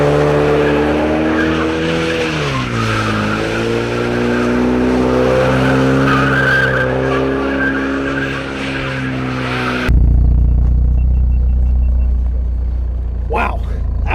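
A turbocharged 350 hp 2026 Ford Mustang RTR drifts at full throttle, engine roaring and tires squealing in a long continuous slide with pitch swings, then a harsh burst of tire noise at close range; voices talk over it.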